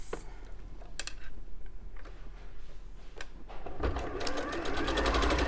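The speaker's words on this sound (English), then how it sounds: "This time I'm going to sew on the line." A sewing machine stitches fabric along a marked line, running in short rapid bursts that build to a loud continuous whir near the end, with a little talk nearby.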